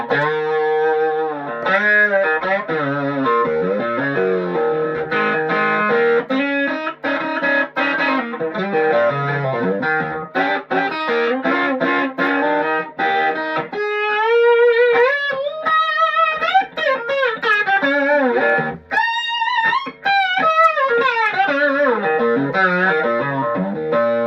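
Electric guitar fitted with a modified Teisco pickup, played through a loud amp: distorted, effects-laden chords and runs with bends, continuous and up close, no talking.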